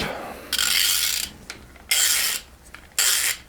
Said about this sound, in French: je reprends un autre cliquet et je vais desserrer ça